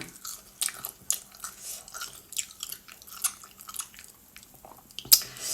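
Someone eating som tam papaya salad with grilled chicken wings and boiled egg, with close, wet chewing, biting and occasional crunches in an uneven rhythm, and no talking.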